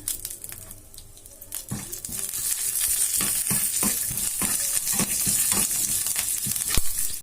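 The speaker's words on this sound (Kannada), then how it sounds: "ಈಗ ಒಂದು ಚಮಚದಷ್ಟು ಜೀರಿಗೆ ಹಾಕೊಂಡಿದ್ದೀನಿ ಸಣ್ಣ ಕರಿಬೇವು ಹಾಕೋಣ" Cumin, white sesame, fenugreek and curry leaves sizzle in hot oil in a pan for a pickle-style pineapple gojju, a steady loud frying hiss broken by repeated sharp stirring clinks, with no voices.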